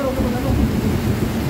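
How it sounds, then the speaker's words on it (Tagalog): Heavy rain pours steadily during Typhoon Opong with deep thunder rumbling underneath, a dense, loud wash of storm noise throughout, and a voice faintly audible beneath it. "Kumukulog na po."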